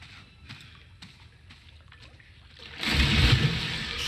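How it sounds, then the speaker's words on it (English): Water splashing and sloshing in a Rings of Power fantasy scene, a few faint drips and small movements building into a louder, fuller splash near the end. "The water makes noise."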